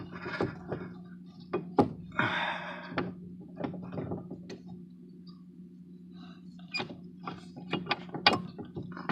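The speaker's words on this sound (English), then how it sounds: "We'll get the big Allen wrench. Get it worked in there." Large Allen wrench worked back and forth on the brakes of a 2003 Chevy Cavalier, giving close metallic clicks and knocks over a steady low hum, with rattles scattered throughout and no talk.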